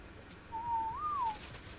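A person whistles one sustained note that bends slightly upward near the end and lasts under a second, during an Ark Scorched Earth game session.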